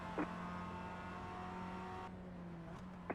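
Race cars in the iRacing sim drone on track with a steady tonal engine hum, one car's pitch dropping slightly as it passes, at low level and without talk.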